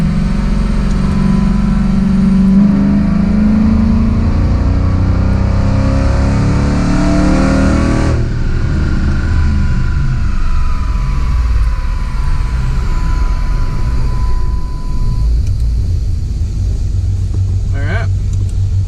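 A cammed 6.1 Hemi engine on a dyno rises in a loud, close rev that climbs for several seconds and then cuts off abruptly to a lower rumble and settling whine.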